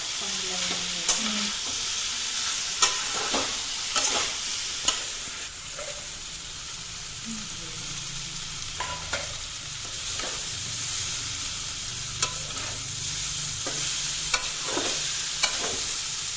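Drumstick vegetables frying in a pan while being stirred, a steady sizzle with intermittent scraping clicks of the spoon at close range, no voices.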